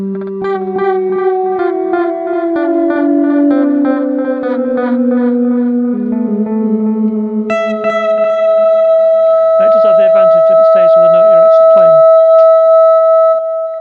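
An electric guitar fitted with a Fernandes Sustainer plays sustained, swelling notes that hold and ring out, drenched in delay and reverb, ending on a long held tone with echoing repeats.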